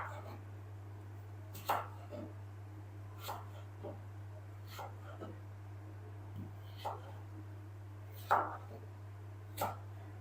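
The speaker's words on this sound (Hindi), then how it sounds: "तो चाकू की मदद से हम इसकी कटिंग कर लेंगे इस तरह से, बिल्कुल पतले पतले स्लाइसेस।" A knife cuts potato into thin matchstick strips on a board, giving sparse, crisp chopping taps spaced a second or two apart over a steady low background hum.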